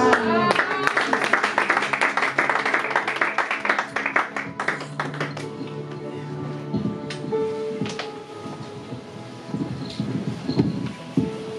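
A church congregation applauds and cheers during a Sunday worship service, a dense wash of clapping that fades toward the middle and picks up again near the end, with voices and music mixed underneath.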